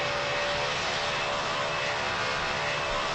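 A simulated airplane engine in a pilot training video game drones steadily and loudly throughout, a constant even roar with a faint hum and no voices.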